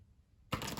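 Tarot cards shuffled in a cramped space, a sudden close papery riffling rush that starts after a quiet half second and continues steadily to the end.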